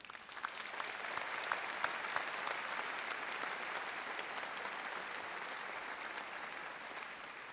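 Steady crowd applause for an honorary degree recipient at a Springfield College commencement ceremony, dense clapping from many hands continuing evenly throughout at moderate volume.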